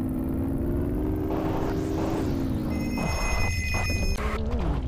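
A telephone rings in the video game Payback 2, with bright repeated electronic tones over a steady engine-like whir in the game's background.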